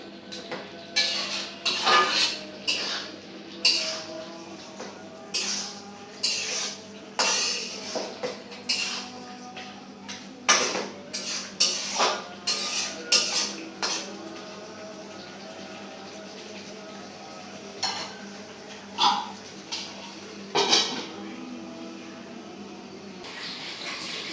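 Metal pots and utensils clatter and scrape repeatedly while chicken is sautéed with spices, a series of sharp uneven clanks and knocks close by, with quieter gaps between bursts.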